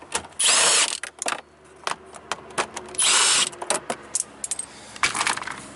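A power drill buzzes in two loud bursts while removing bolts from the interior of a 2004 Chevy truck, with metallic clinks and rattles of parts and tools in between, close up.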